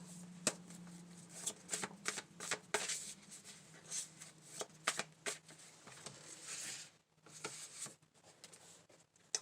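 Tarot cards being shuffled by hand in repeated quick riffling bursts with brief pauses between them, close but quiet, with a soft low hum beneath.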